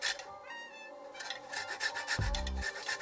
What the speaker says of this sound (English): Grate the zest of the lime